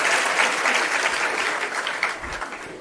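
An audience at a religious discourse claps steadily throughout, a dense continuous wash of applause from many hands, loud and fairly even with no talk over it.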